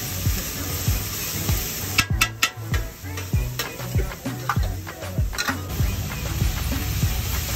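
Paneer masala sizzles on a hot street-stall griddle in Delhi while a metal spatula stirs and scrapes it, giving a steady fry hiss broken by repeated clicking taps.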